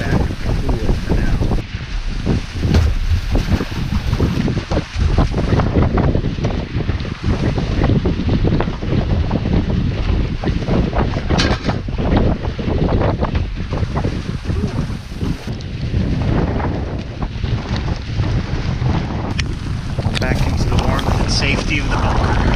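Heavy rain and gusting wind batter tents while campers hunker down on Antelope Island, a loud steady roar of wind and rain with buffeting gusts that continues without letup.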